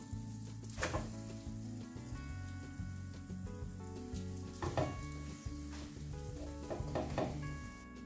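Food sizzles steadily in a hot pan after being flipped, a continuous crackling fry with a few brief clinks and bumps, under background music.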